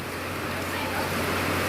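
Steady rain hiss filling the scene, a constant broadband wash with a low hum underneath and no voices.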